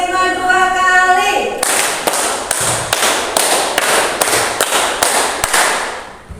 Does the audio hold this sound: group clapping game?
yes